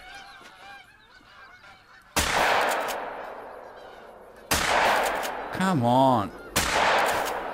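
Three sharp, loud 12 gauge shotgun blasts ring out in a hunting game, well spaced with echoing tails, while geese honk in between and a voice murmurs briefly.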